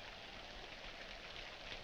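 Steady, even hiss of rain falls throughout a scene in the 1946 psychological horror film The Spiral Staircase, soft and continuous with no voices.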